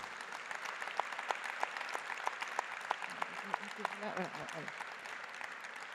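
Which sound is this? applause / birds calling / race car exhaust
applause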